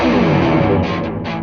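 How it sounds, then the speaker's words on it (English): Electric guitar played through a tc electronic MAGUS Pro high-gain distortion pedal, a loud, dense burst of saturated, compressed distortion ringing out briefly and alone. "The result of this is a hard-hitting distortion, but with a sweet compression and smooth saturation."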